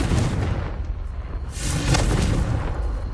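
A Confringo fire spell blasts in the Hogwarts Legacy video game, producing loud booming bursts that roll on for several seconds with no talking.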